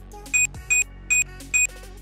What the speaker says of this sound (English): it'll automatically play a beep sound on my AirPods